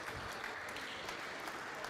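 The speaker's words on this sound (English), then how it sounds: "A little trickle of applause" A small crowd claps in a brief trickle of applause at a squash match in the ESF European Individual Closed Squash Championship, with a steady patter of hands throughout.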